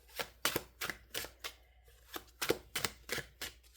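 A deck of tarot cards being shuffled by hand in quick riffled bursts, about a dozen soft rhythmic flutters close to the mic with a brief pause midway.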